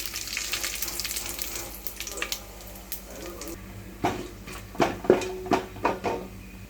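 Whole spices frying in hot oil in a kadai for aloo pulav, a steady crackling sizzle with sharper pops and stirring clinks toward the end, close and moderately loud with no voices.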